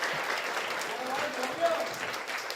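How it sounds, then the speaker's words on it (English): Audience applause welcoming President Lai Ching-te at an overseas community banquet in Hawaii, a steady, dense wash of clapping from a large crowd that carries evenly through the whole stretch. "Now, please give a round of applause to invite President Lai to deliver his remarks."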